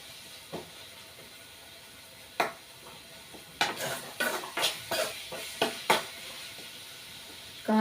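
Chili powder is stirred into softened, simmered tomatoes in a pan for a tomato egg curry: a string of sharp spoon scrapes and clinks over a quiet, steady sizzle, close up and without talk.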